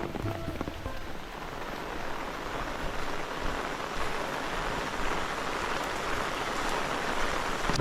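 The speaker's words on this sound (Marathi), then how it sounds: "आता पावसालाच थोडीफार सुरुवात झाली होती" Light rain beginning to fall in a rural Konkan village. A steady, even hiss of drops patters on surfaces for several seconds, with no voices.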